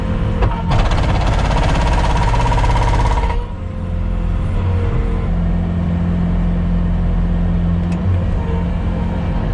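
A hammer attachment on heavy machinery pounds in a rapid, dense burst for about three seconds, then the engine keeps running loudly and steadily on its own.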